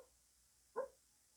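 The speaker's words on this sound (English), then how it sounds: "my little dog is barking in her sleep." A small dog barking in her sleep, one short muffled woof in a quiet room, faint and somewhat distant.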